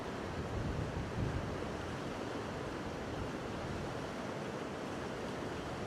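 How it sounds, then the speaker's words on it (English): Dense, steady rushing noise of wind and a flowing river outdoors, broadband and constant throughout, with no voices. "wind still blowing, rivers rushing"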